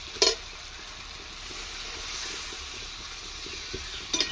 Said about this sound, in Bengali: এই আমি কিছুটা জল দিয়ে দিচ্ছি,